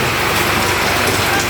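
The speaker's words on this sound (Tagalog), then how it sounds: "Malakas ang ulan." Heavy rain pours down at night in a rural Philippine setting, a loud, dense, unbroken hiss of drops hitting surfaces with no pauses.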